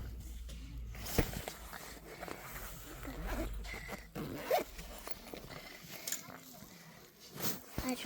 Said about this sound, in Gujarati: હા એ ચેન ખોલીને જોઈ લે.